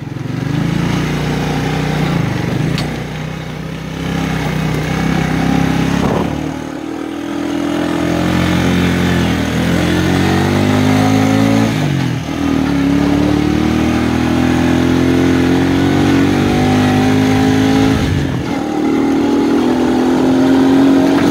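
A 1992 Quadrunner 300 ATV engine starts after sitting for five to six months and runs steadily, its loud, close putter rising and falling with several revs throughout.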